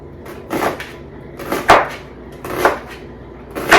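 A knife cuts thin slices of onion on a board for a creamy cucumber salad, four separate chopping thumps spaced about a second apart, close and fairly loud, with no one talking.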